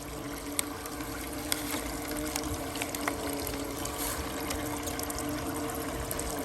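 Water and pay dirt are poured and trickle steadily during gold panning, a continuous wet wash with a few small splashes, fairly faint and close, with no talking.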